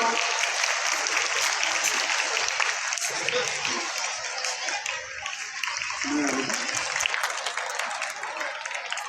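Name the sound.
applause at a voter awareness day prize ceremony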